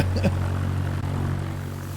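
Cessna 172 propeller engine in Microsoft Flight Simulator, a loud steady low drone with a brief sputter near the start, continuous and close for about two seconds.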